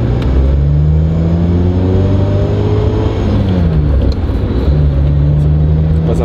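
A Ferrari engine revs loud and close, its pitch climbing, dropping at a gear change, then climbing again in a continuous roar with no one speaking.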